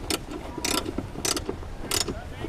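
A battery clamp in a Mitsubishi Shogun Sport being tightened with a ratcheting tool, giving close, rhythmic clicking bursts roughly every half second.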